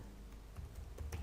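Typing on a computer keyboard while building a web form: a few soft, scattered key clicks, near but quiet, over a low steady hum.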